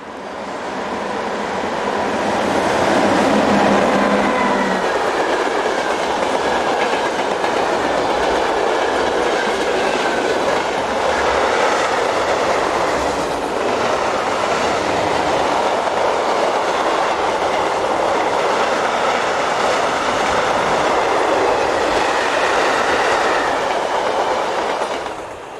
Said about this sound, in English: Number 2014 rumbles south with the Germany-bound container train.